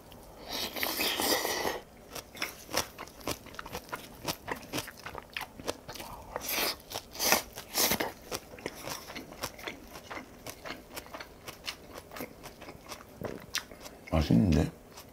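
Crunchy bites and chewing of yeolmu (young radish) kimchi and napa cabbage kimchi, close and loud, recurring in an irregular rhythm with a few sharp crunches.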